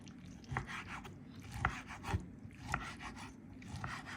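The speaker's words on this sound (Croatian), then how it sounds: "Sada ćemo naseckati." Roasted, peeled peppers being chopped with a knife on a board: soft, irregular rasping cuts, several strokes repeating every second or so, close and quiet.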